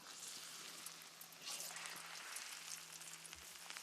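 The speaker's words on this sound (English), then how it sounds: "I'm going to also fry my okra" Okra fries in a pan with a steady, soft sizzle and crackle, quiet and continuous with no voices.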